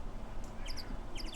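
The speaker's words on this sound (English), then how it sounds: "whatever the sound effect for that bird is atrocious." A chirpy bird sound effect from the Phoenix Wright video game gives a few quick high tweets in two short bursts, faint over a steady background noise.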